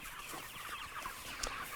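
Young pastured chickens cluck and chatter softly in a field, a continuous low flock murmur with a sharper cluck near the end, close by and without speech.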